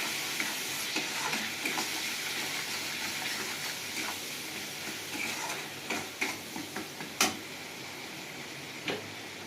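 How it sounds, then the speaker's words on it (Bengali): Spice masala of chili powder, cumin powder and salt frying in a pan: a steady close sizzle throughout, with scattered stirring taps and clicks growing more frequent toward the end. "এর মশলাটা কষে নেব"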